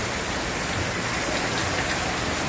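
Heavy typhoon rain under Signal No. 2 in Guimaras, Iloilo, Philippines pours down steadily in a dense, unbroken roar with no voices.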